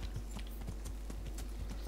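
Horse hooves pound in a fast, steady clip-clop rhythm as a quick horse gallops in the medieval game Kingdom Come: Deliverance, fairly faint and without talk.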